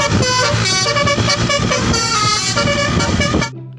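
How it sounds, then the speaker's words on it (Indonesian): A toy telolet bus horn plays a loud, bright musical melody of tooting tones, close and continuous for about three seconds before cutting off abruptly. "Mobil bus telolet teman-teman."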